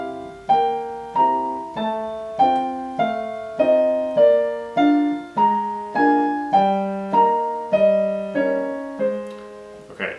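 Solo piano improvises a melody in right-hand quarter notes over circle-of-fifths seventh chords, with a steady chord attack about every 0.6 seconds and each chord decaying in a regular pulse, close and clear, no talk.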